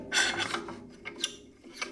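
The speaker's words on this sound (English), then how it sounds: "I also like to use a toothbrush to pull out any excess glue from inside the joint." A toothbrush scrubs excess glue out of a plywood joint, making a few short, close, bristly scrubbing strokes in quick irregular bursts.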